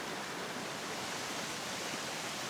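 Broadband rush of a stepped waterfall cascading over rock at Geomnyongso spring in Taebaek, a steady, dense flow of water heard close and continuous with no voices.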